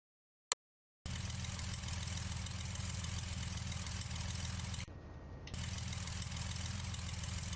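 Cessna C182 engine taxiing in a flight simulator: a steady, even propeller-engine drone heard up close after a short click, briefly dipping in level partway through before resuming.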